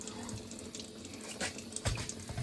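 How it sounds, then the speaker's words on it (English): Waste water from a home reverse osmosis system drains into a sink beside aquarium gear, a steady close-up rush and trickle with a couple of soft knocks near the end. "the bad water goes into the sink"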